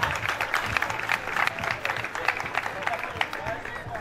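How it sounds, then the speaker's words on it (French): An audience at an awards gathering applauds, dense crowd clapping sustained for several seconds, full and moderately loud, with voices murmuring and talking underneath. "On applaudit encore, c'est nécessaire"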